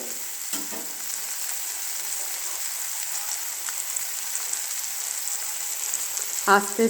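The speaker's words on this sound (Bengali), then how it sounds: "দেখো ফ্রাই করতে দিলাম। সেগুলো আস্ত ইয়েতে আঁচে ফ্রাই হবে।" Whole green chillies frying in a pan make a continuous close sizzle with light crackling, and a brief clatter comes near the start and again at the end.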